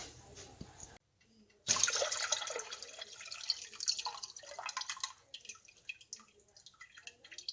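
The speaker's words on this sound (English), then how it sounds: "So I need to open up my other 2 jars and put the beet juice in here as well." Pickled beet juice poured from opened jars into another jar: a brief quiet drip first, then a close splashing, gurgling pour for a few seconds that thins into scattered drips.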